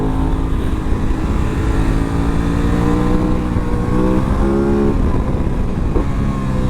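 An Aprilia RS 660 sport bike engine rumbles steadily and loudly from up close, its note dropping as the rider shifts back down to first gear, with wind noise blended into the continuous drone.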